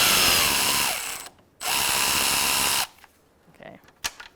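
A power tool whirs loudly as it loosens 13mm bolts on the engine torque strut mount of a 2007-2012 Nissan Altima 2.5L I4. It runs in two close bursts with a short gap between them, then falls away to a few faint clicks and knocks.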